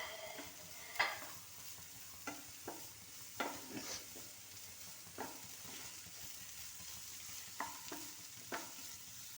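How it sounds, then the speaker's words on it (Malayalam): Onions and carrots are sautéed in a pan, with a soft, low sizzle broken by scattered clicks and scrapes from stirring. There is no talking. "അപ്പോൾ അതിൻ്റെ കൂടെ നമുക്ക് ക്യാരറ്റ് ഇട്ട് കൊടുക്കാം. ഇത് നമുക്ക് വെന്ത് കിട്ടണം. അതുവരെ നമ്മൾ വഴറ്റിക്കൊണ്ട് ഇരിക്കും."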